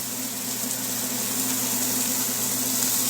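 Hamburger patties searing in a pan, a steady close hiss of frying with a constant low hum underneath.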